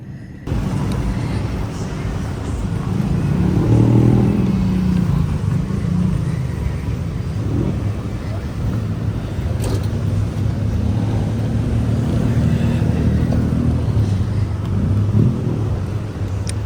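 Busy street traffic on Soi Sukhumvit 11 in Bangkok: a steady, dense rumble of passing engines and road noise that continues throughout, with scattered sharper sounds over the top.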